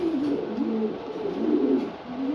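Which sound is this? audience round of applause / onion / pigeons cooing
pigeons cooing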